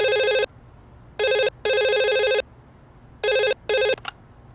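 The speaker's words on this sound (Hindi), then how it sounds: "फोन उठा।" A telephone rings in a hotel setting, loud electronic trilling bursts in a clear on-off pattern, two rings then a pause, with quiet background between and a faint click at the end.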